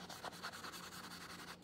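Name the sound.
ink being rubbed onto a journal page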